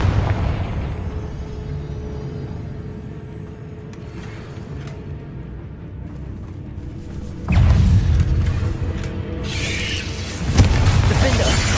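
A Confringo fire spell bursting in Hogwarts Legacy, heavy low booms that surge at about seven and a half and ten and a half seconds over a rumbling combat bed, with voices calling out spells.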